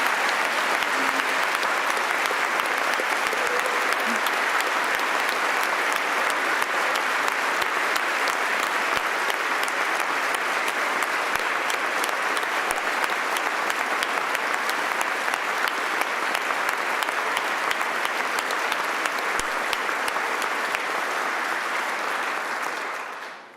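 An audience at a state address breaks into sustained, dense applause that holds steady and loud for over twenty seconds before tapering at the very end, with no voices rising above it.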